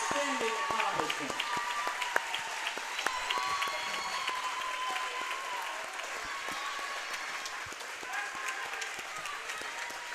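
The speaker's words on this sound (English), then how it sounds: "Please give Colin a big round of applause for your outstanding accomplishment." Steady crowd applause fills a high school volleyball gym in North Dakota, honoring a player's 1,000th career kill, with dense clapping sustained throughout and faint voices mixed in beneath.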